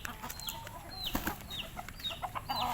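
Kelso gamefowl chickens cluck in short, repeated calls over a steady background of farmyard noise, with no voices heard.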